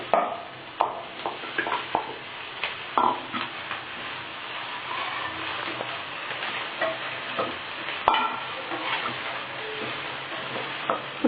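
Okra sliced for a fry sizzles in a pan with ginger, garlic, turmeric and salt, stirred in repeated scraping strokes with sharp spatula clicks over a steady close, moderately loud frying hiss, no voices.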